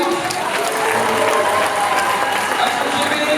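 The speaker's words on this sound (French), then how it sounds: "Vous pouvez les applaudir s'il vous plaît." Audience applause fills a convention panel hall at Polymanga 2016, steady dense clapping with some crowd noise throughout, fairly loud and continuous.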